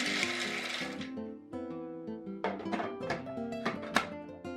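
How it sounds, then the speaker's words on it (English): Food processor blending roasted peanuts, a close, fairly quiet motor whir that shifts pitch and surges in short bursts with clattering from the nuts inside. "Now into a food processor or blender,"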